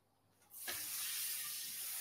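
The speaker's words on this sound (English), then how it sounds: "can hear that sizzling." A sudden loud, steady hiss bursts in halfway through, like mushroom steak hitting a hot pan, and keeps sizzling strongly to the end.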